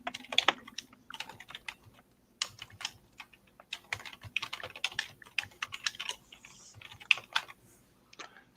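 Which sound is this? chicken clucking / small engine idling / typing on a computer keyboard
typing on a computer keyboard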